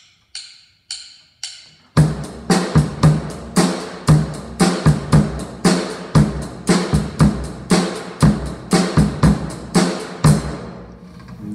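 Rock drum beat with the bass drum varied across the measure, steady hi-hat or cymbal strokes and snare hits; four sparse count-in clicks open it, then a loud, close, even groove runs to the end with no talking.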